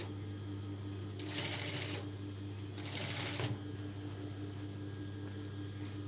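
A sewing machine stitching piping onto the back neck of a blouse, two short close whirring bursts of rapid stitching over a steady low electrical hum, with quiet pauses between them.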